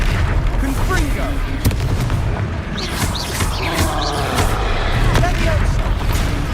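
Fiery blast spells go off in the Hogwarts Legacy video game during combat on hard difficulty, loud repeated booms amid a dense, continuous roar of game action, with shouted spell names over the top.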